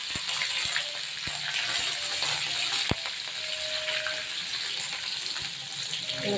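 Green chillies and curry leaves crackling in hot oil as tempering for Karnataka-style upma, a continuous dense sizzle with a few sharp pops and clicks, nearby and fairly loud, no voices.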